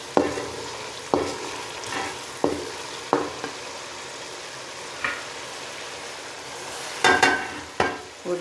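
Powdered spices fry with softened tomatoes in a pan, a steady quiet sizzle broken by repeated sharp scrapes and clacks of stirring, spaced irregularly with a busier cluster near the end.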